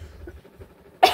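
A single sharp cough bursts out close to the microphone at the very end, after near silence.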